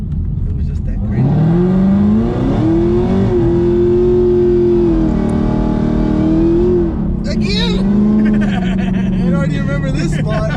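A Chevrolet Camaro ZL1 V8 revs hard through a rolling burnout on a town main road, a loud sustained engine roar with rising and falling pitch. A brief drop in revs and shifting sounds follow near the end.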